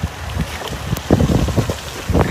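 Rain falling outdoors at Srisailam, with wind buffeting the microphone; a steady, close hiss of drops in gusty bursts, with no talking.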